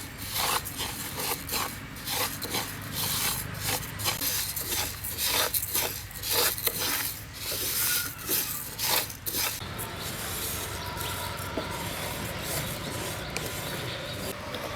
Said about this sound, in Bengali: ডালটাকে নেড়ে চেড়ে ভেজে নেবো